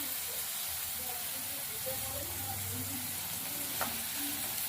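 Pointed gourd fries in oil in a pan, a close, continuous sizzle with low bubbling and a faint scrape near the end.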